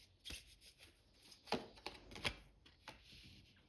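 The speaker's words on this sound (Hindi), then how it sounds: "शफल कर लेती हूँ मैं कार्ड्स को।" Tarot cards are shuffled by hand in a few quick, faint riffles and snaps heard up close in a quiet room.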